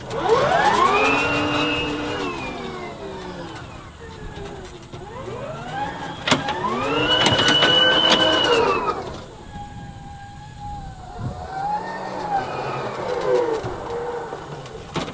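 A battery-powered Toro Grandstand Revolution zero-turn mower driving at max speed, its electric drive whining in rising and falling sweeps as it speeds up, turns and slows, close and fairly loud.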